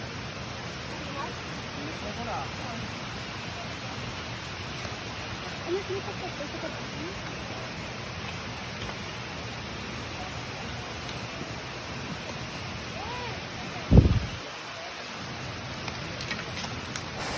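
Steady broadband rush of a waterfall at Sulkok (Solcoc) Falls, a constant hiss throughout, with a brief sharp thump near the end and faint voices under the water.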